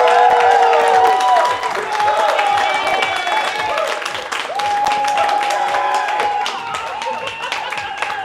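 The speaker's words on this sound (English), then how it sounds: "Can we please have a big round of applause and get Carrie out here?" A crowd at a sustainable cocktail competition applauds and cheers for a contestant, with dense clapping throughout and a melodic tone, likely music, running underneath.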